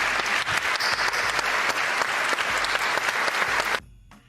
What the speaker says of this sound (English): I'm going to give them again a big applause